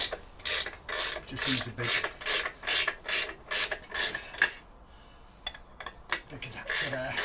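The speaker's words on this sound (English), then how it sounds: "Either you can use a ratchet socket" Ratchet socket clicking rapidly in repeated bursts while loosening wheel bolts on a Honda NC750X DCT motorcycle, close and loud, with someone talking briefly between strokes.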